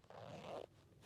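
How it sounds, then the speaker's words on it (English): A zipper on a Crye Precision G3 or G4 combat pants pocket, a YKK zipper, gives one smooth, close ripping pull lasting about half a second, then falls to near quiet. "These are good zippers."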